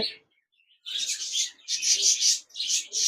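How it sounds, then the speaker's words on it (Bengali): A pair of Japanese budgerigars chirps in quick, bright twittering bursts, close and fairly loud, with short pauses between the runs of calls. "এখানে দেখতে পাচ্ছেন একজোড়া জাপানিজ বাজরিগার রয়েছে"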